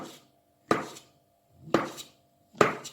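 A knife chops mushrooms for biryani on a cutting board in three crisp, evenly spaced strokes, each a sharp close thunk with a short tail, with no talk.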